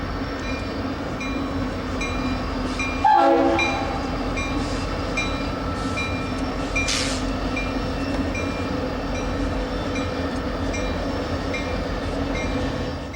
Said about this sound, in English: Another Triclops leads a stack train into the yard with a Rio Grande tunnel motor third out in the consist.